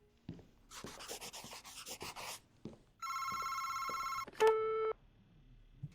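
In the horror game Paperback, a telephone bell rings in one sustained electronic burst, followed by a shorter tone, after quiet rustling and scraping footsteps.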